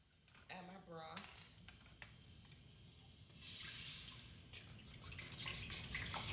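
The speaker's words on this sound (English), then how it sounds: "Okay, so the first thing I do is add my broth." Broth pours into a hotpot with a faint liquid splash and trickle, mixed with light clinks of pot and utensils at low volume.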